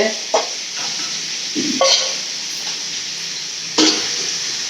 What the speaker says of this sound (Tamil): இந்த மாதிரி வதக்கணும் எண்ணெயில் இந்த மாதிரி நம்ம வதக்கிட்டு